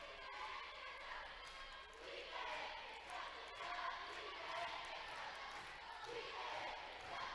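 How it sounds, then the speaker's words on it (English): Crowd noise fills a gymnasium at a 2018 Class 1A Division II state championship basketball game between Northern Valley and Elyria Christian, a steady broad roar with scattered shouts and sneaker bustle throughout, continuous and moderately loud. "And you can hear the crowd in the background."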